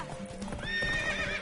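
Hooves clip-clop in a steady rhythm while a horse whinnies loudly near the end, all within a horse race scene in The Witcher 3 video game.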